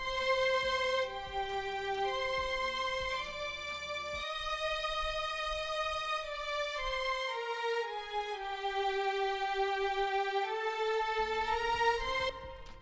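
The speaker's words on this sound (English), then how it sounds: "And the strings, I created a melody and made it into an octave." Sustained strings play a slow, smooth melody doubled in octaves, with long held notes gliding from one pitch to the next.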